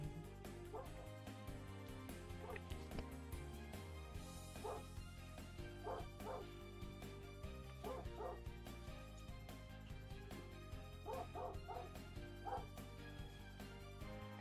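A dog barks, yips and whimpers in short bursts over a dense, steady background of music, the calls recurring throughout.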